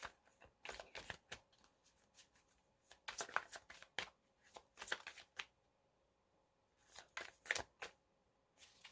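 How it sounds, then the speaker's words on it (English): Tarot cards are shuffled close by in soft, papery riffling bursts, a few quick flurries separated by short pauses, quiet and alone. "I'm going to pull some cards here."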